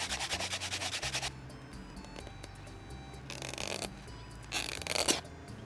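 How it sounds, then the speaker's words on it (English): Label residue is scrubbed off a surface with quick, rhythmic rubbing strokes, a fast scratchy burst at first and then two slower, softer scrubbing passes, close and quiet with no talk. "There's only like a little bit of residue left right here and right there. I'm just gonna keep scrubbing away."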